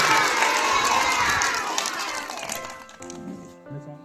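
A crowd of schoolchildren at a school function shouts a chant loudly together in unison, the roar fading away after a couple of seconds, followed by a quieter voice.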